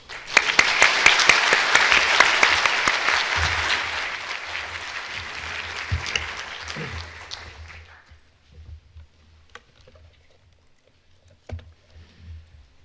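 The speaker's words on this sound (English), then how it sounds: "We should still applaud." Audience applause fills a panel session on poverty, loud and dense at first, then thinning out and fading away to near silence with a few scattered claps.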